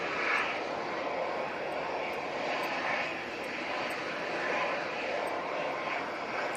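An ATR turboprop aircraft lands with a steady, broad engine roar heard from a distance, holding even throughout with faint voices beneath it.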